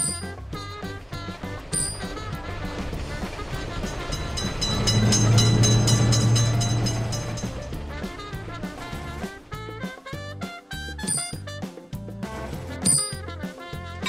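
A train in a railroad crossing simulator game rumbles past, swelling to a loud peak midway and fading, with music-like tones and clicks layered throughout.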